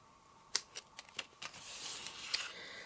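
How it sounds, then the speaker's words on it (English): Scissors cutting excess material in a papercraft setting: several quiet, sharp snips spaced irregularly, followed by a soft rustle of handling, faint and close. "I think that might be a bit too long, so I'm going to cut it off."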